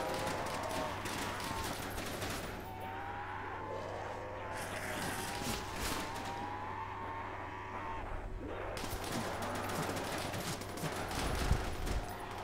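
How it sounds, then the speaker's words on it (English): Machine gun fire in Call of Duty: World at War, zombies mode with bot soldiers: dense, continuous bursts of rapid shots rattling for several seconds, joined by other battle noise and a steady low drone, with a brief lull midway. "I can't see anything, I'm just shooting wildly."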